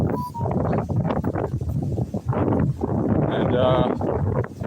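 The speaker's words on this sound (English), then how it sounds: "but it's very windy here" Strong wind buffets a microphone outdoors, a steady rumbling roar that persists beneath someone talking throughout.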